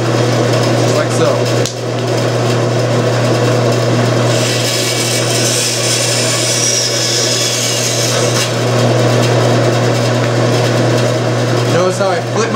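A bandsaw runs steadily and loudly at close range while material is fed and cut, its constant motor hum layered with a brighter cutting whine in the middle. Someone talks throughout.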